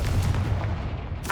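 The Confringo blast spell in Hogwarts Legacy goes off as a single loud, close boom with a heavy, rumbling body that sustains briefly.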